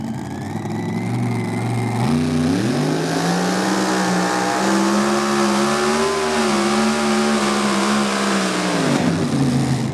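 Mini rod pulling tractor at a Hillsboro, Wisconsin tractor pull, its engine roaring loud and close, pitch climbing sharply then holding a strained, wavering high rev for several seconds before easing off.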